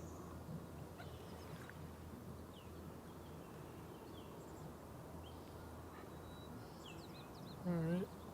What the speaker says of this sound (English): I can hear some chickadees behind me